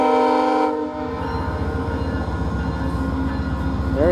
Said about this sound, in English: the horn on 901's pretty loud